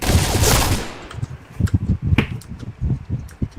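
An Aug GSL 2015 rifle fires in a video game: a loud dense burst opens, then rapid rhythmic shots crackle alongside sharp mechanical clicks.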